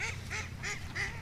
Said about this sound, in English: Got some ducks out there.